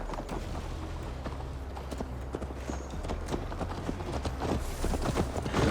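Horse hooves clip-clop at a steady gallop in Assassin's Creed Valhalla, a dense rhythmic pounding over a low rumble that continues throughout the ride.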